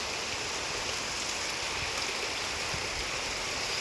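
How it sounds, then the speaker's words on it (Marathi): Steady, dense rainfall hisses continuously, a broad even wash of drops with no pauses and no voices. "छान चालू झाला पाऊस"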